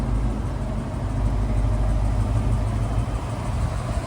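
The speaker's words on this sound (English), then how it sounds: "Listen to that Flowmaster sound." A 1989 Ford Mustang GT 5.0 V8 with a Flowmaster exhaust idles steadily, giving a deep, even burble that stays close and constant with no talk.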